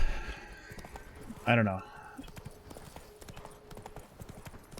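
Hooves of Roach, the horse in The Witcher 3: Blood and Wine, clip-clop steadily at a walk, with a brief whinny early on and a person talking over them.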